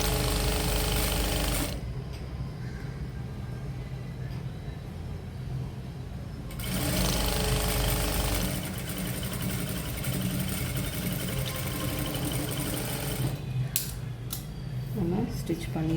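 A sewing machine stitches a pa neck design, running in steady mechanical bursts with a pause partway through, fairly close and continuous.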